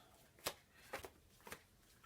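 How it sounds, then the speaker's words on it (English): Cards from the Iron Helm dungeon card game are shuffled by hand, three quick soft riffling bursts spaced about half a second apart, close and quiet with no voice. "So shuffle the cards."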